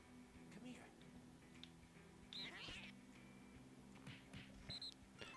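Short meows from a cat in the video game No More Heroes 2, a few scattered cries over a steady hum of game music and background noise.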